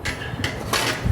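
Ingredients for fried rice beaten lightly in a bowl, giving a short run of quick clinking, scraping strokes close by with no talk.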